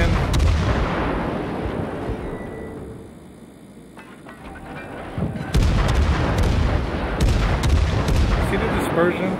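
Battleship main guns firing in a World of Warships naval battle: repeated heavy booming salvos with rumbling tails, loud and close, a quieter lull midway before another burst of blasts.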